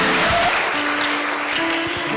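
A church congregation applauds during a Sunday worship service, a steady dense wash of clapping from many hands filling the room, loud and sustained without a break.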